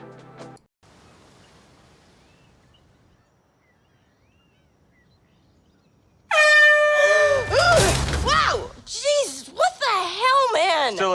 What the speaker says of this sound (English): Was the air horn really necessary?